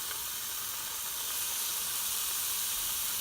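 Bacon sizzling in a pan at a campsite, a steady bright hiss that holds evenly throughout with no voices.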